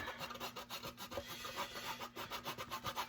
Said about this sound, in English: grate a good amount of that cheese on there